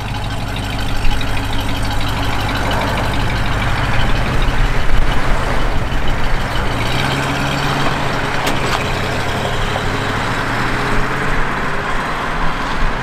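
A 1940 Ford F1 truck engine idling loud and close, a steady low rumble with shifting pitch that continues unbroken throughout.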